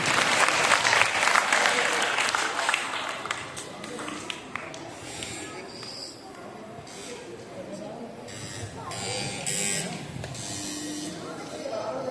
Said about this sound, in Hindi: जोरदार तालियां, आपके अपने बच्चे हैं।